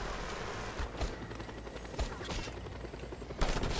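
Helicopters trade gunfire in the game Just Cause 2: a dense, continuous wash of shots with a few sharper bursts, loud and constant across the whole stretch.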